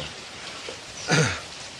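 Monsoon rain patters outside as a soft, continuous wash, with one brief louder swell near the middle.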